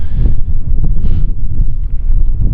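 Wind gusting steadily across an exposed winter camp near a birch belt after sunset, a loud, low rumbling buffet on the microphone with no voices.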